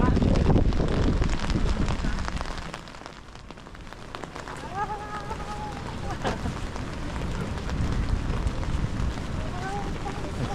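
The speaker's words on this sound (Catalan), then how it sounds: "Per aquí ve el vent" Seaside wind in the Basque Country, loud gusting noise buffeting the microphone with a broadband rushing roar, with faint voices and brief tonal sounds partly heard beneath it.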